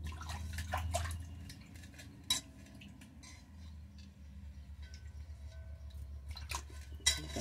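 Broken rice being washed by hand in a pot of water, with soft sloshing, occasional drips and a few light clinks of the metal vessel, quiet and close.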